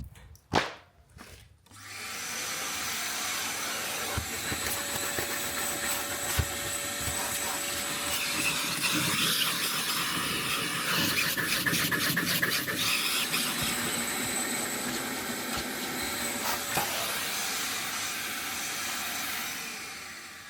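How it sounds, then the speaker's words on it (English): A steady vacuum cleaner drone runs close by for most of the stretch, with scraping and rubbing as the nozzle works over the floor of a Daihatsu Charade L251 interior, after a few sharp clunks at the start. "the penultimate step for the interior was to vacuum out the floor"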